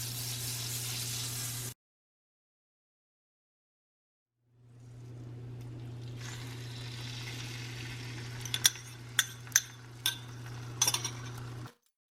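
Eggs cooking in a tablespoon of melted butter in a pan: a steady sizzle cuts out for a few seconds, then returns with several sharp clinks and scrapes of a utensil against the pan.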